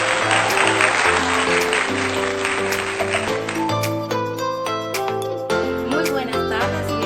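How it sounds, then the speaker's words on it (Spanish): Studio audience applause on a Spanish-language channel 8 television program fills the opening seconds as a broad clatter of clapping, then fades under a bright tonal music jingle that takes over. "Démosles un fuerte aplauso en el día de hoy."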